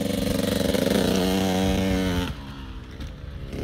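Two-stroke dirt bike engine during a jump, a close, loud buzzing rev that climbs in pitch, then cuts back to a quieter idle as the bike lands.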